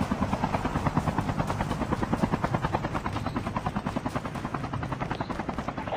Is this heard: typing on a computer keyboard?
no